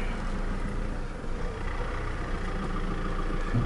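A Vauxhall Insignia engine idles steadily, a low continuous rumble that holds at an even level with no voices over it.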